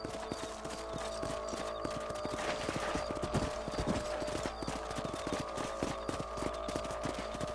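Horse hooves clip-clop at a steady walking rhythm while riding in Red Dead Redemption, close and continuous over a low ambient hum, with no talk.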